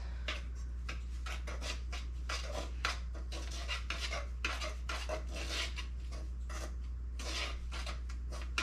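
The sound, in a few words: mixing milk and egg yolks together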